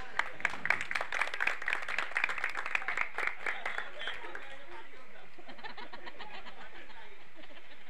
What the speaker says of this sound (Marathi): यासाठी सर्वांनी प्लीज टाळ्या वाजवाव्यात.